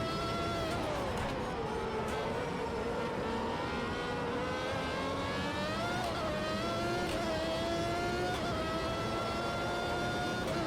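A classic 1988 Formula 1 race car engine in the Automobilista 2 racing game, at the Montreal circuit, drones loud and steady as it revs up and shifts through gears, with no talk over it.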